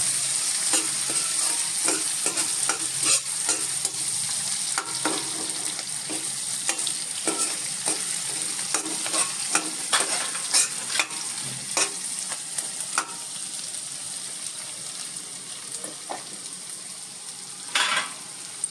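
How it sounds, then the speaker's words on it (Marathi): Chopped onion sizzles in hot oil in a pan for tomato upma, a steady frying hiss under frequent clicks and scrapes of a spatula stirring, close and continuous with no talking. "आता हा कांदा आपण भाजीला जसा लालबुंद परततो तसा परतायचा नाहीये, ट्रान्सलुसंट करायचा आहे."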